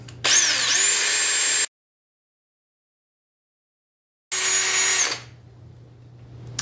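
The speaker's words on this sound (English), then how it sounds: "And then we're going to mix this for 5 minutes." A power drill mixing epoxy resin for a marble planter whines at high speed in two steady bursts separated by a silent gap, close and loud, then winds down at the end.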